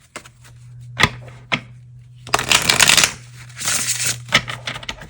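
Close-up tarot card shuffling: a few crisp riffles and taps, then longer fluttering shuffles of a deck, with a faint low hum underneath.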